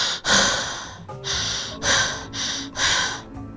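A voice imitates Cheyne-Stokes breathing: five loud, close, rhythmic breaths, sharp gasping inhales and exhales in a steady cycle, with short pauses between them and no talking.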